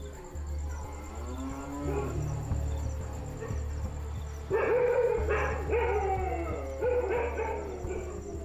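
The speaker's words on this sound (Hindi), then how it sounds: "कुत्ते शेरों को देखते ही भौंक भौंक कर पूरे गांव को खबरदार कर सकते हैं।" Village dogs bark and howl in long, rising and falling cries, joined by cattle-like lowing from livestock nearby, with a steady low hum underneath throughout.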